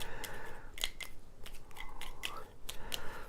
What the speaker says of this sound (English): we take these tiles. We're going to shuffle them up and divide them back out.